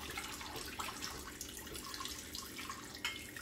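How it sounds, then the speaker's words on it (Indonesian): A kitchen sink tap runs steadily during dishwashing, a continuous splashing hiss with a few faint clinks, fairly close and without voices. "Tutup keran airnya kalau sudah."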